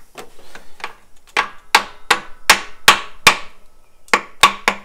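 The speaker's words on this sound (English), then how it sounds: "back to brass hammer again. Brass hammer for a little separation." A brass hammer strikes a metal part on a Jeep TJ cooling system in a steady series of sharp, ringing blows, a few light taps first, then about ten firm hits, close and loud.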